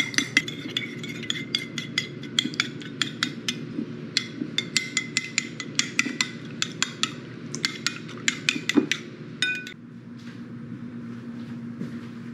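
A spoon stirs an egg mixture in a bowl with rapid, regular clinks and scrapes against the sides, close and steady for about ten seconds before stopping.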